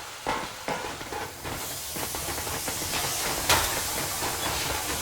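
Steam train hissing aboard the Yermak locomotive in the Metro Exodus video game: a steady broadband hiss of escaping steam that runs the full length, with a few sharper bursts near the start and a brighter spurt midway.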